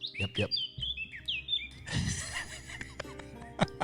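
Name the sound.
birds chirping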